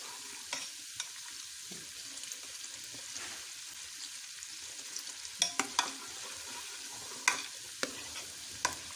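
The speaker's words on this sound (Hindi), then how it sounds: "तो हम भी आज देखिए देसी घी बना रहे हैं।" Homemade desi ghee cooking in a pan gives a steady soft hiss, with scattered spoon scrapes and sharp crackling pops that cluster in places. No one speaks.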